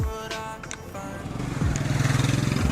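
A TVS Apache RR310 BS6 motorcycle engine after a gear change, starting with a brief whine and clunk, then a steady, close, rising engine drone with throbbing pulses that grows louder toward the end.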